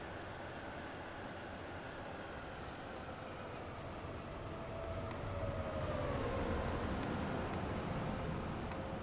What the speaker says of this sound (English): Avanti Pendolino going past